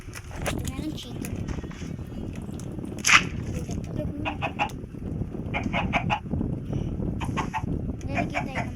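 Minecraft chickens cluck in short bursts amid background chatter and movement noise, with people talking throughout.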